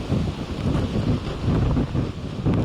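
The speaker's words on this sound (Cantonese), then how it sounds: "見到呢度風勢同埋雨勢咧都明顯咧係好大噶" Strong gusting wind from Typhoon Higos buffets the microphone at the Heng Fa Chuen waterfront in Hong Kong, a loud, steady low roar that swells and dips without pause and carries no voices.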